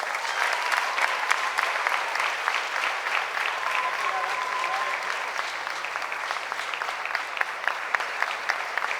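Audience applauding at a ballet academy closing ceremony with Cuban National Ballet dancers, a sustained even roll of many hands clapping, moderately distant, with a faint voice briefly heard beneath it.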